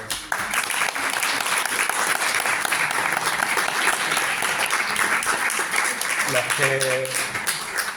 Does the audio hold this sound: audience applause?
yes